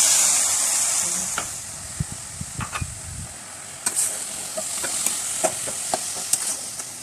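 Crushed coconut with sugar and milk sizzling in a pan over low heat for coconut barfi, a steady soft hiss broken by irregular scraping clicks of stirring, close and moderately loud with no talking.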